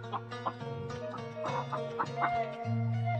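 Hens clucking in a laying coop, a busy overlapping chorus of short throaty clucks and drawn-out calls, close and fairly loud, with no talk over them.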